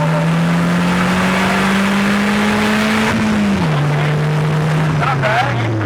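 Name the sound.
Polaris Slingshot engine revving on downshift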